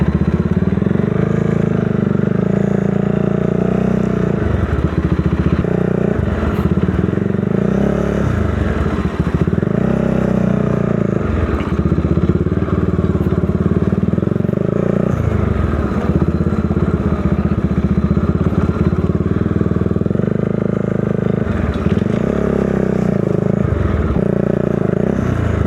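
A motorcycle rides along a rural bypass road between Dingalan and Baler in Aurora, its engine droning steadily and loudly throughout with rising and falling revs, with no talk.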